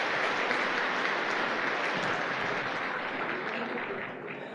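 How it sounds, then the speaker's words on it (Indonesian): Audience of men and women applauding new members at a seminar gathering, steady dense clapping sustained for several seconds before easing off slightly at the end. "Oke, tepuk tangan buat yang baru-baru Bapak Ibu ya"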